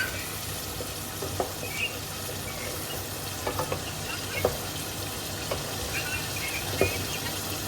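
Pasta being stirred in a pan on a gas stove, with a continuous frying hiss and scattered clinks and scrapes from the stirring. Faint background voices and a hint of running water sit underneath.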